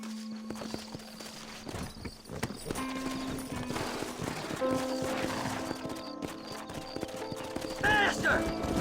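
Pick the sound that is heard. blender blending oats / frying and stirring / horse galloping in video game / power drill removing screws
horse galloping in video game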